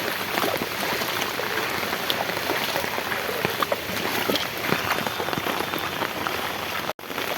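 Heavy monsoon rain pours steadily across a waterlogged area, a dense, continuous hiss of drops striking surfaces and pooling water, loud and unbroken throughout with only a brief dropout near the end.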